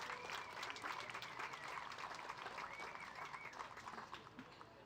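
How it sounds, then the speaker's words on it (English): Applause for steer exhibitors at a junior livestock show, steady clapping from a crowd at a distance, faint and continuous throughout. "give all of our steer exhibitors out here a good round of applause"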